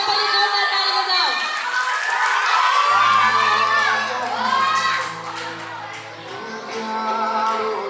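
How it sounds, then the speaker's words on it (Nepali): Students at a dance school's fourth anniversary award program cheer and shout loudly, young voices whooping and calling over scattered clapping in a lively, swelling crowd roar. "उहाँलाई सबैले जोरदार ताली बजाऊ"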